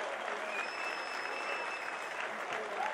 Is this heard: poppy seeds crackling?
no